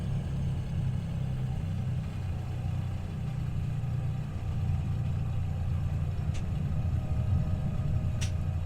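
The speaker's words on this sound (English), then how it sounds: "I want to hear the engines as they spool up here." Small general aviation aircraft engines spool up for takeoff out of St. Louis, a steady low droning rumble that builds slightly in strength, heard close with no talking.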